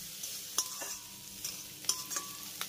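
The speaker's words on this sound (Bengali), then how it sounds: "এবার আদা আর পেঁয়াজটাকে এই তেলের সঙ্গে হালকা করে একটু ভেজে নেব।" Ginger and onion fry lightly in a little oil with a soft, quiet sizzle, broken by several sharp clinks and scrapes of a spatula stirring in the pan, close up and with no talk.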